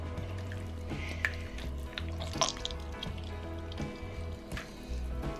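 Onion juice being poured away in a kitchen while making Turkish dry meatballs: soft wet drips and squishy splashes come in small bursts over a low steady hum, quiet and close.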